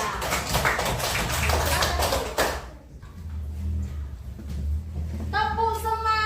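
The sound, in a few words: classroom applause for group 3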